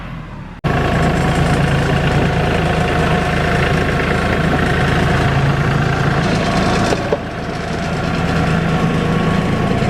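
A tractor fitted with a back blade spreads delivered gravel, its engine running loud and close in a constant heavy drone that cuts in abruptly and dips briefly near the end.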